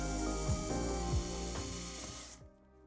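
A cordless drill whirs steadily with a ratcheting, whining motor while working on a BMW 2 Series F22 tail light, pitch dipping a few times before it stops abruptly.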